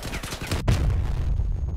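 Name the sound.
cannon and gunfire in Crossout video game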